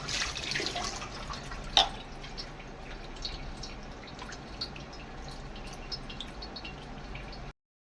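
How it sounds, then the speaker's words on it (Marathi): Karli fish being rinsed clean in water before frying, with steady running and dripping water sounds and one sharper splash near the start, no talking. "मच्छी परत एकदा स्वच्छ धुवून घ्यायची आहे"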